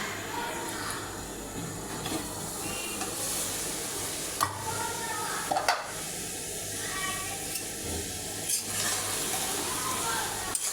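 Fish roe simmers in a little water in a covered pan, producing a steady close bubbling sizzle with occasional louder pops and stirring knocks.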